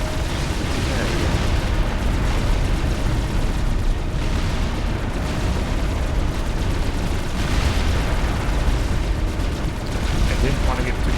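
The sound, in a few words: explosion in Supreme Commander Forged Alliance video game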